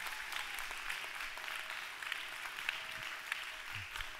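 Lecture audience clapping, a soft, steady patter of many hands heard from a distance, continuous throughout with no talking over it.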